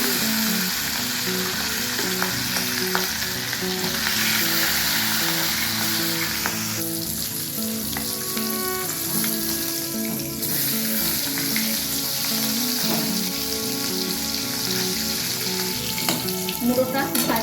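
Fish head frying in a wok of hot refined oil, a loud, steady sizzle and crackle running the whole time without a break, with occasional faint scrapes and clinks of utensils.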